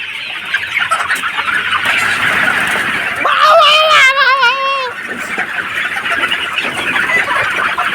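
Chickens cluck and squawk close by at a market stall, with one bird crying out loudly in the middle amid background bustle.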